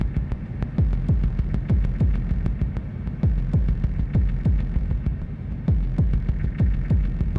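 Modular synth patch feeding back on itself, a steady throbbing hum with a fast pulsing beat of repeated low thumps running continuously at constant loudness.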